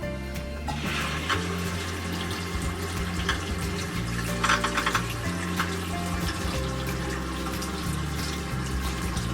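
Toilet cistern refilling with water after the supply is turned back on during a leak repair, heard as a steady hissing, gurgling flow with a low tonal hum, close by and constant.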